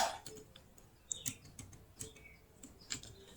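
Someone types an IP address on a computer keyboard: quick, uneven key clicks, close and fairly quiet, in a short burst.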